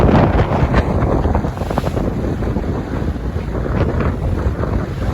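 Loud rushing wind and churning high sea waves buffet a ferry crossing from Merak port in bad weather, a steady roar of water and gusts close to the microphone with no voices.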